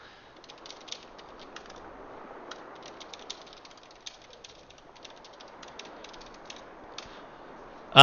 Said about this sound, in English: Helps if I'm actually typing in the chat window